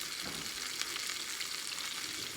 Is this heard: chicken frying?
yes